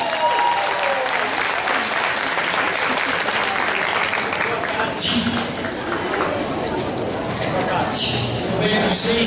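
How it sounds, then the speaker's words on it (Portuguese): Steady audience applause as a presenter named Rodrigo de la Lastra is called onto the stage at a Clorofitum show, the clapping sustained and full throughout with voices mixed in beneath. "com os aplausos de vocês"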